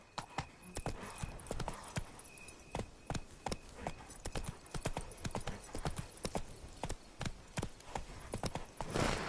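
Horse hooves gallop in a steady, rapid clip-clop rhythm across open ground in The Witcher 3, loud and close throughout with a faint tonal hum beneath.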